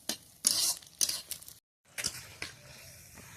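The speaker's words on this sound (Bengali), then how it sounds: "শুধু দুটো ডিম ভেজে নিচ্ছি সকালে খাওয়ার জন্য" Two eggs frying in a pan for breakfast give off bursts of sizzling and scraping, close and fairly soft, broken by one short silent gap before the frying noise resumes.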